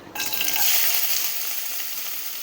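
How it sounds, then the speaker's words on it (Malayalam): Chopped ginger goes into hot coconut oil with a sudden loud sizzle that starts abruptly, then holds as a steady hiss and slowly eases. No talking. "എണ്ണ നന്നായി ചൂടായി വന്നതിന് ശേഷം നമുക്ക് നേരത്തെ അരിഞ്ഞു വെച്ചിരിക്കുന്ന ഇഞ്ചി ചേർത്ത് കൊടുക്കാം"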